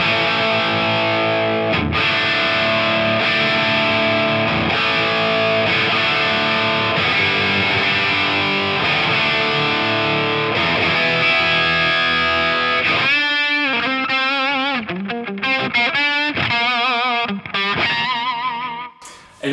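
Crunchy, moderately overdriven electric guitar through a Solodallas Storm Schaffer Replica pedal into a JTM 45 style amp, sustained chords ringing then a run of choppy single-note picking near the end, played alone.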